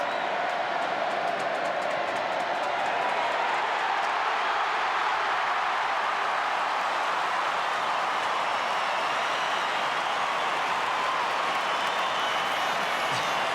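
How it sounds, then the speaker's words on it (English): A large football crowd at an AFL match between St Kilda and Brisbane roars and applauds in a sustained, broad wash of cheering that holds steady throughout, heard from a distance without clear individual voices. "Listen to the crowd."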